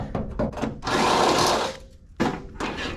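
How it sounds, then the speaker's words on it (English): Reaming bolt holes in a metal battery tray on a Squarebody Chevy truck with an LS swap: a power tool whirs in a steady loud burst, then stops, followed by another short burst of grinding rotation. "Probably helps if I ream it out a little bit."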